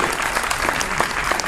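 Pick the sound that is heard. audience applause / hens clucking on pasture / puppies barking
audience applause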